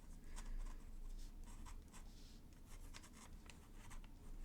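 A fountain pen nib loaded with pigment ink scratches across paper while lines are drawn, giving a steady close dry rasp with quick repeated strokes and no voices.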